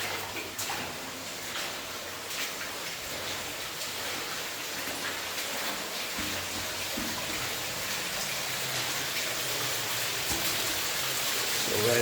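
Water running out of an abandoned early-1900s gold mine, a steady broadband rush and trickle that echoes inside the tunnel, continuous and fairly close, growing slightly louder toward the end.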